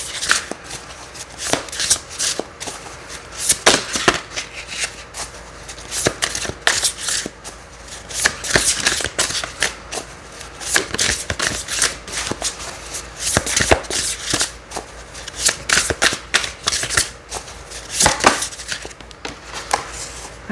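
An oracle card deck called Shaman's Dream is shuffled by hand, with repeated riffling snaps and soft slaps of cards coming in quick, uneven bursts, close by and without any talk.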